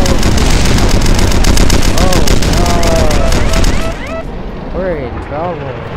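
Rapid bursts of automatic gunfire from the video game Red Crucible: Firestorm rattle loudly and densely for several seconds, then give way to whizzing, sweeping game effects, with a player talking over the action.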